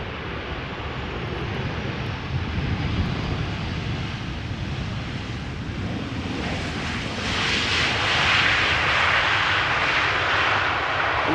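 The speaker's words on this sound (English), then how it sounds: "this is a 23-year-old 737-800 that has just touched down after coming back home from Berlin in Germany" A 23-year-old Boeing 737-800 jet lands on the Polderbaan runway 18R at Amsterdam Schiphol, its broadband engine roar steady and loud throughout, swelling slightly brighter toward the end.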